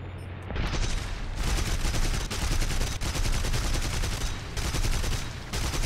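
Dense, continuous gunfire from the War Thunder video game, loud and sustained with rapid repeated bursts and heavy booms piling up for several seconds, with no talking.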